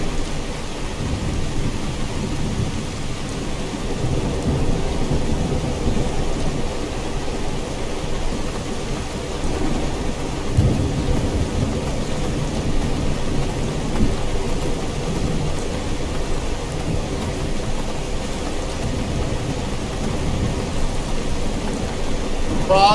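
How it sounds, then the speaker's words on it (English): Steady rain pours down with low rumbles of thunder rolling underneath, a continuous dense wash of sound throughout, in the video game Skyrim. "Fog, rain, thunder. Pretty nice."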